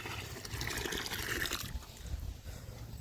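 Water tipped from a metal pot into a village drinking-water trough, a splashing, trickling pour that is strongest in the first half and then fades to a faint dribble.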